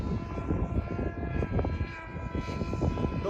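An FT Flerken RC airplane's electric motor runs at full throttle into the wind on its maiden flight, a continuous droning propeller whine with a slight rise and fall.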